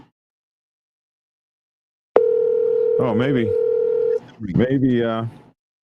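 A phone call in progress plays a steady, unanswered ringback tone that holds for about two seconds, with someone talking over and after it.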